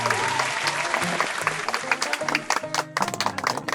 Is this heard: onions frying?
no